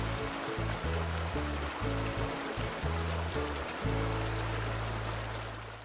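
A tranquil backyard river at Mountain River flows in a steady, continuous wash of water noise, with a low tonal hum running underneath throughout.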